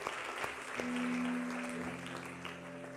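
Applause from a church congregation fills a large room with steady, fairly faint clapping that swells briefly and then fades a little, and a sustained organ-like tone hums underneath.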